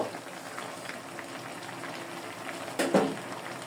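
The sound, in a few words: water added to half-boiled cauliflower cooking in pan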